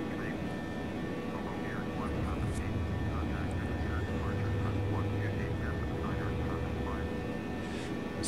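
An Airbus A318 in a flight simulator climbs after takeoff from Exeter, a steady broad jet engine roar under someone speaking.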